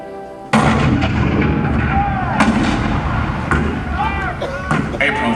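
A loud cannon blast booms in the Hall of Presidents show at Magic Kingdom, Walt Disney World, depicting Fort Sumter in 1861, followed by sustained rumbling battle effects and sharp cracks under a narrator's voice.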